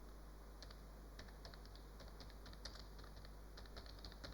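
Typing on a computer keyboard to enter a PubMed search, a quick irregular run of light close clicks with short pauses over a faint steady hum.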